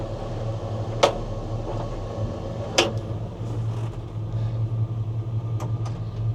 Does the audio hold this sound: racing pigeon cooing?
no